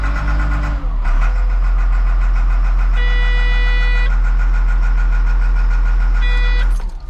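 A Caterpillar 950F wheel loader's diesel engine cranks and catches, then idles with a loud, steady low drone, with two short bursts of high repeating beeps over it.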